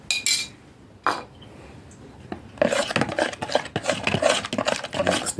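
A garlic and yogurt sauce with lemon juice is stirred in a bowl, starting with a few isolated taps and scrapes and then turning into a busy run of rapid spoon scraping and clinking.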